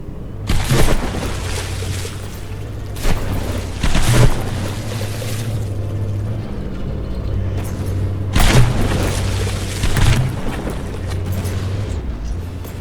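Battleship cannon fire in the video game From The Depths: heavy booming shots land every couple of seconds over a constant rumbling sea and engine drone, loud and without speech.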